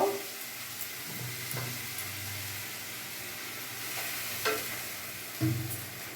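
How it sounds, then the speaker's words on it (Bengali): Spice paste with turmeric powder and chilli is stirred in a pan over a faint, even sizzle, with a few soft scrapes and taps of the spoon against the pan, fairly quiet throughout. "এবার আমি ভালো করে নাড়াচাড়া করব।"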